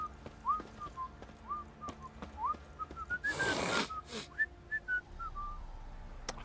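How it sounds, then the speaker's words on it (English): A character whistles a wandering tune in The Witcher 3 video game, a bright melodic line of short rising phrases over quiet ambience, briefly covered by a burst of noise midway. "Who's whistling?"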